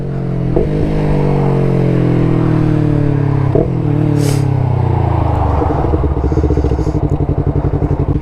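A 2019 Yamaha YZF-R3 with an aftermarket exhaust, loud and close, holding a droning rev that slides down and then settles into a rapid, choppy idle burble.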